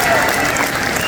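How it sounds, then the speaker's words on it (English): Crowd applause at a political rally in Fergus, Ontario, a loud burst of dense clapping held for about a second. "Give The Rock a big round of applause here."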